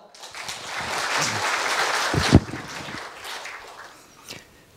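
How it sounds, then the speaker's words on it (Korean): Applause from the audience at a university staff retirement ceremony builds quickly, holds for a couple of seconds with a sharp louder moment, then fades to scattered claps before ending. "큰 박수 앞에 있는 분들한테 박수, 박수 부탁드리겠습니다."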